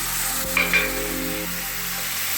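A paste of poppy seed, garlic and ginger sizzles in a frying pan, a steady close hiss with a couple of brief clinks of a utensil.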